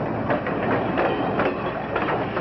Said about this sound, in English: we run our trains at reduced speeds, often 8 or 10 miles per hour.